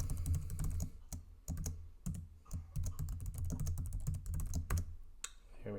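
A password is typed on a computer keyboard, with rapid close clicking keystrokes in quick bursts and brief pauses between them.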